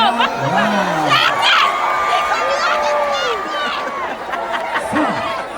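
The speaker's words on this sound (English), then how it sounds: "you get a free high five and a round of applause from this lovely audience" A crowd at a Halloween party on a cruise ship cheers and whoops loudly, with children shouting and excited high-pitched voices rising over a busy, chattering background.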